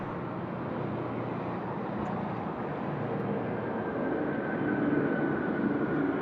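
An airliner flies near Sydney Airport in gusty wind shear, a steady broad roar of jet noise swelling slightly toward the end, heard from a distance without talk.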